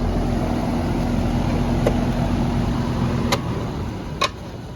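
A residential HVAC unit runs without its compressor, making a steady mechanical hum and whir with a faint tonal drone, broken by a few sharp clicks or ticks near the end; no one speaks.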